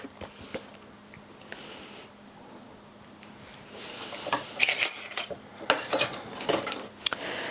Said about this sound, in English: I just kind of mix my oil with my sourdough and just slowly, gradually let the flour blend in